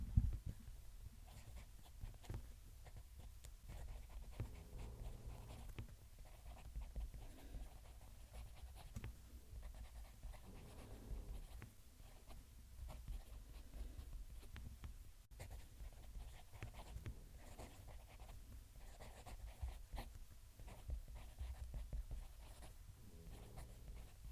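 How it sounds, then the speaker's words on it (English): A Kaweco fountain pen nib writing on paper, a faint continuous scratchy scribble close to the mic over a low background hum, with no talk. "Let's move the mic and we'll do a writing sample."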